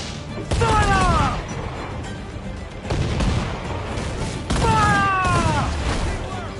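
Broadside cannon volleys from a sailing ship's guns in the video game Assassin's Creed 4 Black Flag boom out three times at uneven intervals, each a heavy rumbling blast, while crew voices shout orders between and over them.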